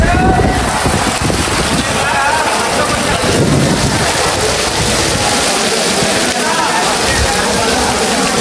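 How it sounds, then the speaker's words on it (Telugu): A sudden heavy downpour lashes an open cricket ground, a loud, constant roar of rain with wind buffeting the microphone throughout. "సడన్ గా వర్షం ఎక్కువైపోయింది"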